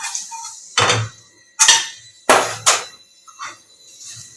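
A metal kadai pan set down on a kitchen stove, a few sharp clanks and scrapes of metal on the burner grate, close and loud with short pauses between.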